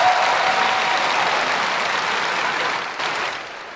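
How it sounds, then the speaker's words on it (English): A round of applause for Lindy Phillips at a school nutrition association event, a dense, steady audience clapping that fades slightly toward the end, with no voices. "One more round of applause for Lindy Phillips"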